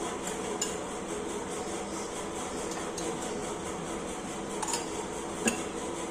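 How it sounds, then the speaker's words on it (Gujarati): Ghee is spooned into a cooking pan on a low gas flame, with a few faint, light metallic clinks over a steady background hiss. "હવે હું આમાં ઘી નાખીશ."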